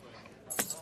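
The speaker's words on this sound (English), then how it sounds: "You can have my car keys if I have another drink." Car keys jangle in a single brief, close metallic burst as they are handed across during an indoor drama scene, rising out of a quiet room.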